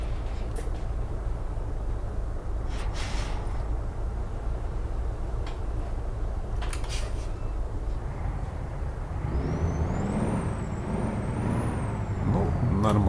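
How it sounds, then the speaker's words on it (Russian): Freightliner truck in American Truck Simulator driving with a steady loud engine drone throughout, brief hiss bursts like air brakes, and a rising whine near the end. "Freightliner у нас довольно-таки громкий грузовик."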